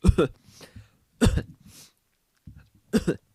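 A person imitates coughing with a few short, sharp bursts separated by pauses, close up and fairly loud.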